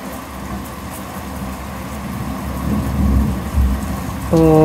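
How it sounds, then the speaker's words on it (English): Thunderstorm with heavy rain: a steady wash of rainfall with deep rumbling thunder swelling in the middle and growing louder toward the end, where a brief musical tone also cuts in. "Oh, I don't like thunderstorms."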